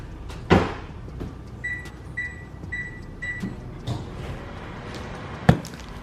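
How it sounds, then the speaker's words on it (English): A microwave oven running with a series of short electronic beeps, surrounded by a few clunks of a door or cupboard. "Pop it in the microwave."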